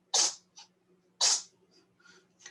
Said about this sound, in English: Cat's having a sneezing fit.